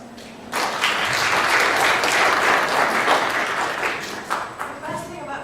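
An audience bursts into loud, dense applause after a quiet start. The clapping holds steady for several seconds and then thins toward the end.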